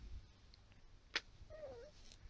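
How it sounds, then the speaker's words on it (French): A domestic cat gives a single short meow in a quiet indoor room, with a faint brief click just before it. "Pourquoi tu miaules comme ça?"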